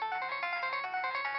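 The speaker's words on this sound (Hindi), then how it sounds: "ये किसका फोन बजा है?" A mobile phone ringtone rings on a television drama set, a steady bright electronic melody pulsing in a quick repeating rhythm, heard alone and fairly loud.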